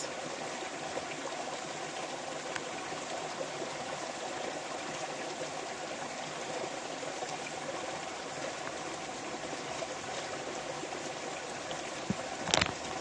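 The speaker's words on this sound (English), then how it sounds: "Watching the leaves go down the creek is really soothing." Creek water flows steadily through a wooded outdoor setting, a continuous broadband rush with no talk, interrupted near the end by a brief close handling bump.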